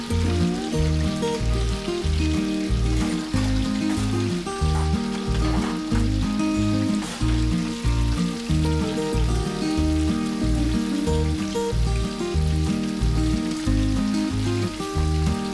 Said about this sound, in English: Fry it until it is crispy and golden brown.